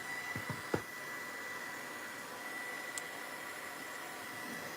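A heat tool blowing hot air over a mixed-media painting, giving a steady, even whoosh with a faint high whine throughout, and a few light knocks near the start.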